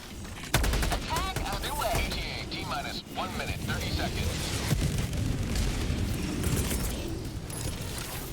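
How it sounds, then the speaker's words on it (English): Orbital strike explosions in the video game Helldivers 2 boom and rumble continuously with dense crackling blasts, loud and sustained throughout, with voices partly under the noise. "Firing orbital strike. Boom, target down."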